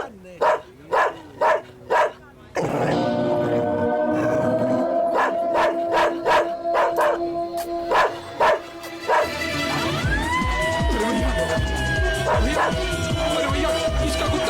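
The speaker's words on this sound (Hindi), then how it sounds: "अरे भैया, भैया, कुत्ते को रोको भैया।" A dog in a Hindi film scene barks in a run of sharp, repeated woofs, then yelps and whimpers amid loud background music and commotion, with people speaking over it.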